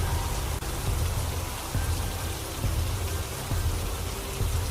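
Steady rain pouring outdoors near a river, a dense continuous wash of drops with low rumbling undertone and a few brief thuds, fairly loud and alone with no voices.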